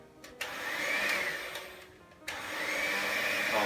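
Electric whisk beating a traybake batter of egg and mixture in a bowl, a close whirring motor drone that briefly dips and then resumes, steady and moderately loud.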